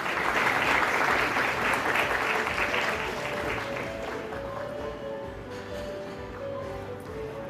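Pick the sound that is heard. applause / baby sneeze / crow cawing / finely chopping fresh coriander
applause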